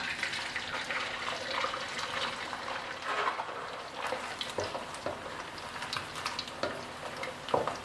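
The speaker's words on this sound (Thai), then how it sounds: "เราก็เอาหมูเนี่ยไปทอดไปเลยค่ะ" Steady crackling sizzle of pork frying in hot oil over low heat, with scattered pops and a few clinks over a continuous hiss.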